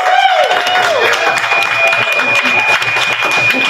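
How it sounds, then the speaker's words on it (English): An audience at a Halloween party open mic gives a warm round of applause, loud dense clapping with a sustained electronic tone and crowd voices mixed in. "Give a warm round of applause and other noises for Mackenzie"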